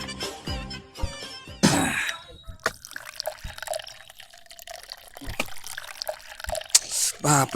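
Water drips and trickles in short bursts in a domestic setting, with pouring or splashing moments between quieter gaps and faint background sounds; occasional voices are present.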